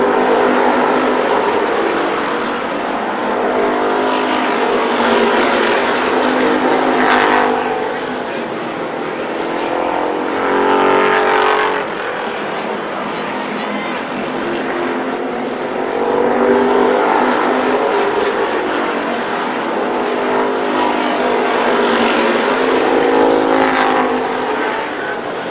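A pack of race cars in a Columbus Motor Speedway main event roar continuously and loudly, the engine noise swelling and easing as cars sweep past, under steady announcer commentary.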